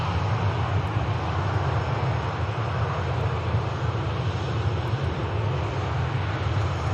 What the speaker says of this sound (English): beautiful Saudia Dreamliner.